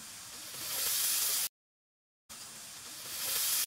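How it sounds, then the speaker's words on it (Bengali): Warm water poured into a pot of basmati rice, a soft rushing hiss that swells in two bursts separated by a short silence, fairly quiet and close. "এখন কিন্তু জলটা দিতে হবে, জলটা পরিমাণ মতো দিতে হবে।"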